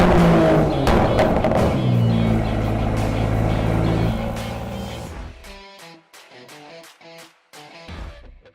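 A throaty Aston Martin DBS Superleggera V12 exhaust note, loud and close at first with a steady rumbling drone, then easing into quieter, broken bursts of engine sound.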